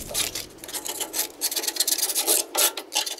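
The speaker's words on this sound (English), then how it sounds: "So first we're going to start with a scraper," A metal scraper rasps over a rusty surface in quick, repeated strokes, a close, gritty scratching heard alone.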